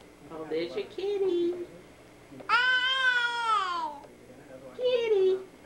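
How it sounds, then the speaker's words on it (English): A house cat gives one long, drawn-out meow in a home setting, framed by an adult's soft talk and a baby's babbling before and after it. "Oh, there's your kitty."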